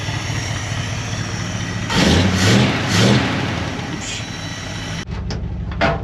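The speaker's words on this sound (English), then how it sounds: "I think it likes that even back pressure. What a happy engine. Thing is so smooth." A Dodge Power Wagon truck engine running with a new exhaust, idling smoothly and steadily, then revving in a few swelling pulses before settling back to an even idle, close and loud.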